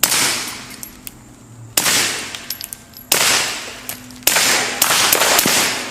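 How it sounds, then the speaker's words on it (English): Suppressed 9mm pistol shots fired at a watermelon, four sharp cracks spaced about a second apart, each followed by a short ringing decay, close and loud. "You think we should shoot this watermelon?"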